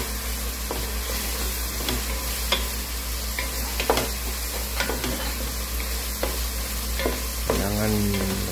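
Tomatoes being crushed and stirred in a pan while sautéing for sinigang na bangus, with steady close frying sizzle and repeated scraping stirs, a brief squeak near the end.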